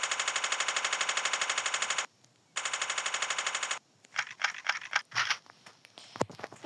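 Rapid automatic gunfire in the game Chicken Gun, two long sustained bursts with a brief gap, followed by scattered sharper shots and clatter.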